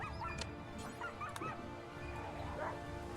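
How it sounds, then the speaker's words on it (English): Warhounds in a RimWorld raid barking, yipping and whimpering in brief bursts over a steady bed of game music and ambient noise. "So their warhounds are coming after me as well"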